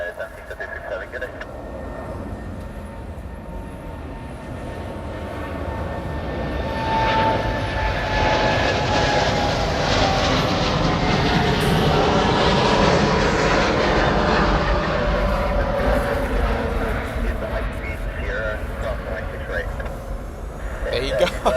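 A United airliner departs from a Los Angeles airport, its jet engines building into a broad, loud roar that swells and holds before easing slightly. The roar plays alone without talk.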